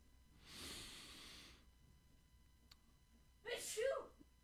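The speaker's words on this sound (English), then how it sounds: "She wanted to cameo in the show for a minute and make her appearance with a sneeze." A woman sneezes once, a sharp close burst after a soft breathy inhale, in an otherwise quiet room.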